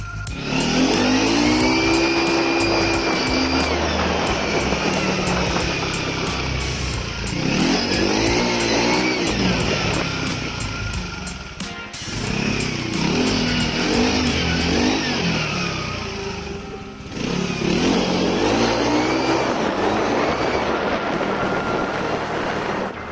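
A motorcycle fitted with a low-noise aftermarket exhaust accelerates in several repeated runs, each rising pull fairly subdued and smooth before easing off, with brief lulls between bursts and no talking.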